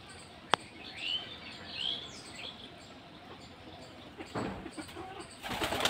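A colourful pet pigeon drinking water, then faint soft cooing and chirps followed by a sudden flurry of wing flaps as it takes off, quiet and somewhat distant in an outdoor setting.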